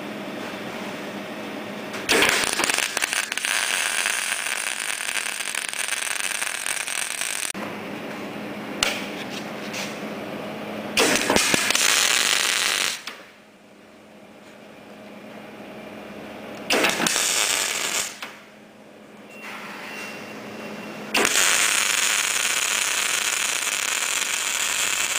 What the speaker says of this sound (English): we're just doing some standard welding just to show you the settings for the machine